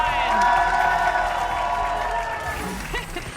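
A crowd applauds and cheers loudly for a contestant named Okeanos, with clapping and whoops sustained throughout before easing slightly near the end.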